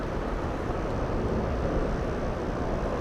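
Delta passenger jet bound for Schiphol at Atlanta's Hartsfield-Jackson airport, its engines making a steady, loud broadband roar that holds without letup, with no voices over it.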